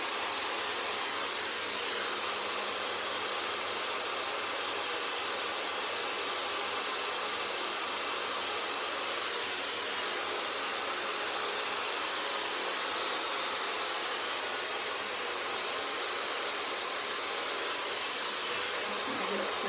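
A hair dryer fitted with a diffuser dries gel-styled curly hair, giving a steady, close, whooshing blow that runs unbroken and fairly loud throughout, with no talking.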